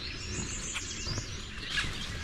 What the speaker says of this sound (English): Tons of birds calling, as you can hear.